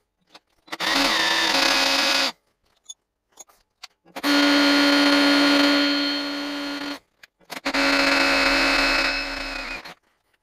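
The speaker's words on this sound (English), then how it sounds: "So that's the holes drilled now for all the bolts and for the little lug." A power drill bores bolt holes and a lug hole through a metal motor adaptor plate for an electric car conversion, in three long steady whining bursts separated by short pauses, close and loud with no talking.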